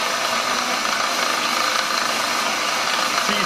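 A machine hobbing a worm wheel gear for a homemade dividing head produces a steady, dense mechanical whir and grinding hum with a faint rattle. It runs continuously and evenly throughout at close range, with no voices.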